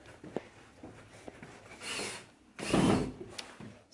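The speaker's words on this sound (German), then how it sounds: "Felix schraubt unten" A power drill drives screws during home construction work, with whirring bursts of moderate loudness separated by clicks and handling knocks, heard nearby with no talking.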